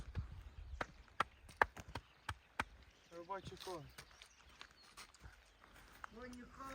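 Working horses stepping back and forth, their hooves giving sharp, irregular clip-clops on a hard surface, close by, with people talking intermittently over them.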